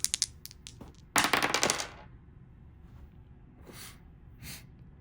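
Dice rolled for a board game tournament: a few quick clicks at the start, then a dense burst of rattling clatter as they tumble and settle, followed by quieter scattered rustles.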